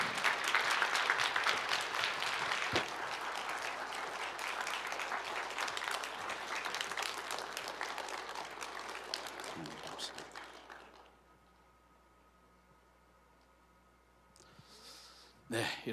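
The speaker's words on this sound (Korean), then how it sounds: "여러분 오실 때 힘차게 박수로 우리 박사님 환영하도록 하겠습니다." A church congregation at a Sunday evening service claps loudly and steadily to welcome a guest lecturer. The applause fades out after about ten seconds, leaving near silence, and then a brief burst of sound follows.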